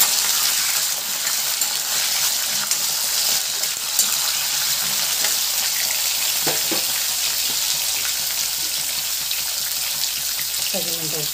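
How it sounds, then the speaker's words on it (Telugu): Bitter gourd pieces stirred as they fry in a pan, a steady close sizzle running throughout, with a few brief utensil clinks and scrapes near the middle and end. "కాకరకాయలు ఒకసారి బాగా కలుపుతాం"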